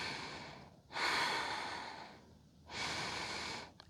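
Deep, audible breaths taken while holding a warrior 2 yoga pose outdoors in the mountains: two long airy exhalations close to the microphone, separated by a quiet pause, with no talking.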